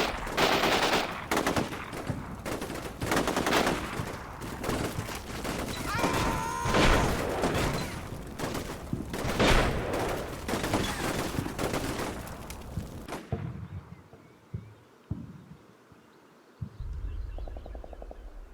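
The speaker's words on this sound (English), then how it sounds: "Resistance fighters starting to put down flanking fire in the distance." Gunfire in the video game Combat Mission Shock Force 2, resistance fighters laying down flanking fire: dense, sustained rattling bursts and cracks over a noisy battlefield bed, then cutting to quieter scattered distant shots.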